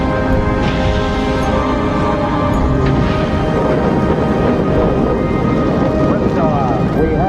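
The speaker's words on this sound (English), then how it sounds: "Liftoff. We have a liftoff. 32 minutes past the hour. Liftoff on Apollo 11." The Apollo 11 rocket launches with a loud, continuous, broad rumble and crackle that roars without letup, while a broadcast voice talks over it.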